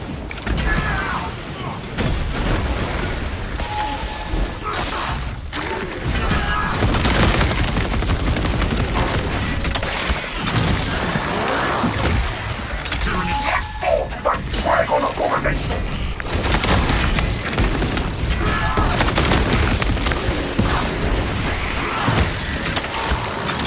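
Servo gun fire in Warhammer 40000: Space Marine 2: sustained rapid mechanical bursts of gunfire and clattering impacts, loud and dense throughout, with game voice lines and effects mixed in.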